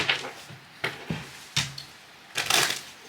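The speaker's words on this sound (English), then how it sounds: "So we're going to go ahead and do a quick shuffle." Tarot cards are given a quick shuffle, with a few crisp riffling and tapping bursts over about three seconds, close and fairly loud with no talking.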